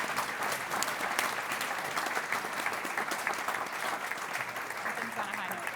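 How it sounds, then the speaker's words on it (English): Sustained applause from a City Club Friday Forum audience for a panel on food insecurity in Ohio, dense and even clapping filling the room for several seconds with no talk over it. "Let's give them a big round of applause."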